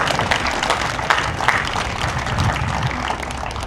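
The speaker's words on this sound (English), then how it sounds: "that's worth clapping for" A room full of people clapping at a hospital ribbon cutting ceremony, sustained and even applause of moderate loudness carrying on throughout without any speech.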